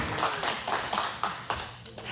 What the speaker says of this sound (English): clap for him, man